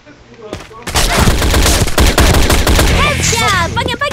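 Rapid gunfire from the online shooter Sudden Attack, loud bursts of automatic shots and single cracks filling most of the stretch, with short ringing hit sounds near the end.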